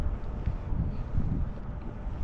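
Seaside wind at Buhairah in Al-Khobar, Saudi Arabia, buffets the microphone as a steady, low, roaring rush for a couple of seconds, with no other sound standing out.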